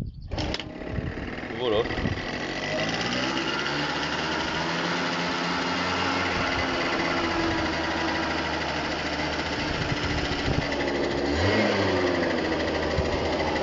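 A motorcycle engine in a home garage is started and then runs steadily at a fairly high, slightly racing idle, close and loud throughout, with a brief spoken word near the end.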